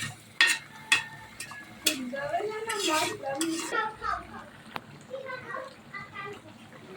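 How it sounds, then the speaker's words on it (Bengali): Goat head meat being stirred in a pot, with a few sharp metallic clanks of the spoon against the pot and a faint simmer underneath, while people talk over it and children's voices are heard. "আমরা আরেকবার গোশটারে লাড়া দিতেছি।"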